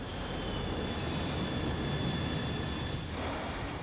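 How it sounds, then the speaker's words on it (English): A cargo plane drops too quickly on its final descent toward a hard landing, its engines making a steady, loud, broadband roar that stays constant, with a faint high whine riding over the rumble. "Now the plane is dropping too quickly."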